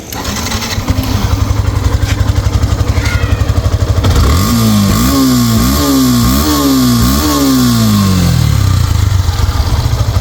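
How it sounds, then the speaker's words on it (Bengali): A 2022 Yamaha FZ-S version 3 BS4 motorcycle idles with a fast, even putter, then revs up in several rising bursts, loud and close, with no talk. "ভালো কোয়ালিটির বাইক তো স্টার্ট করবো"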